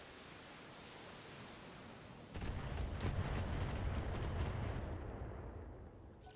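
An LRM-20 missile launcher fires a volley in the BattleTech video game: a sudden loud broadband roar with a rapid string of sharp launch cracks that fades after a few seconds.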